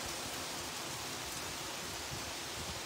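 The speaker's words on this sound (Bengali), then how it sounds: "কি সুন্দর, কি সুন্দর বৃষ্টি" Heavy rain falling steadily during a thunderstorm on a hot day, a dense, even wash of hiss with no breaks, heard alone without voices.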